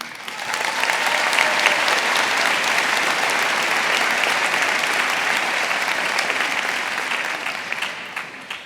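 Sustained applause from a university honors convocation audience welcoming a student speaker, dense and steady throughout, swelling early and tapering slightly at the end.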